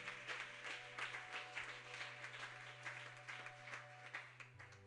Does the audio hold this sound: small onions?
no